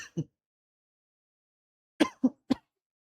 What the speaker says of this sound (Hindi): जोर से बोल दे रहा है ना तो खांसी आ जा रहा है।